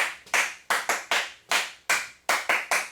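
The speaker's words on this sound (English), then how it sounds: "you guys are clapping and walking on stage all at the same time" A few people clapping in rehearsal as dancers walk on stage, about ten sharp, separate claps in a loose, uneven rhythm, close and clear with no talking.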